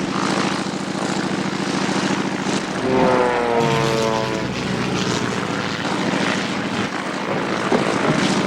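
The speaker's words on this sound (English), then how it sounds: "the cat is trying to fly the aeroplane" Cartoon propeller aeroplane engine running steadily and loudly, a continuous droning buzz with a rising whine partway through, heard alone without voices.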